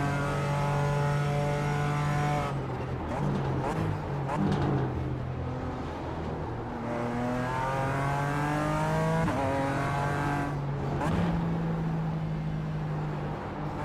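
A BMW race car engine in the iRacing sim, revving high and rising in pitch before several quick upshifts drop the tone, a steady loud engine drone throughout.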